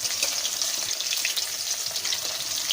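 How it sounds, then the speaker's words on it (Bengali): Long-cut potato sticks fry in hot oil for a fish curry with peas, a dense, steady crackling sizzle that stays loud and close throughout with no voices. "লম্বা লম্বা করে আলু কেটে রেখেছিলাম, সেইগুলো এবার আমি এই তেলের মধ্যেই ভেজে নেব"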